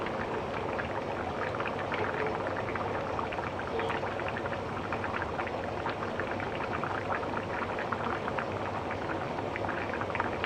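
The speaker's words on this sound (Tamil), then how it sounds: "அதுதான் நல்லா கொதிக்குது." Steady, dense bubbling of tilapia fish curry boiling in a pot, close by and continuous throughout, with no talking.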